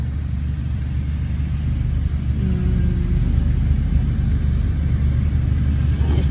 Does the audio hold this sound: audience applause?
no